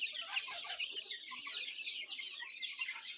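A flock of young poultry in a yard on a hot day clucks and chirps continuously, many birds at once, with dense overlapping calls and no talk.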